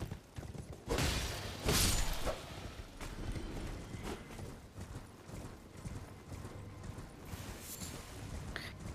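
Horse hooves galloping in the Elden Ring video game, amid battle with ballista bolts: rapid, rhythmic clip-clop thuds run throughout, with heavier impacts early on and game effects layered over the pounding gait.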